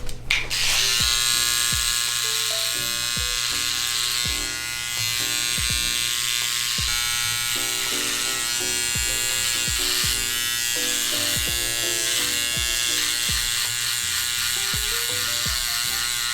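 Electric hair clippers buzz steadily and continuously, close up, trimming hair on a neck, with small shifts in tone as they pass over hair.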